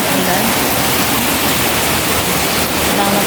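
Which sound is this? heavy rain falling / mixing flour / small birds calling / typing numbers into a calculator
heavy rain falling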